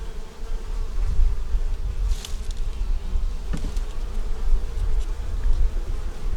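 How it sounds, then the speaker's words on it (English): A dense, steady hum of many honeybees buzzing close by at a hive entrance, with occasional individual bees zipping past. "Bees bringing in pollen."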